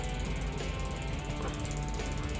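An entry-level bicycle freewheel hub with two pawls and only two engagement points, giving a steady, fairly quiet whirring ratchet buzz close to the listener.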